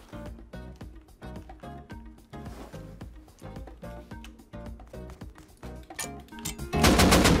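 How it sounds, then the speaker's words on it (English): AK rifle fire in the survival game Rust, with rapid bursts of loud automatic gunshots in a fast, steady rhythm, ending in a louder, denser blast. "Oh fuck, that's an AK."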